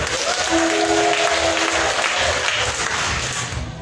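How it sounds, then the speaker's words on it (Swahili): A church congregation at a Kikuyu service breaks into sustained cheering and applause with a loud crowd roar and a high wavering ululation near the start, fading slightly toward the end. "Pigia Bwana shangwe na vigelegele."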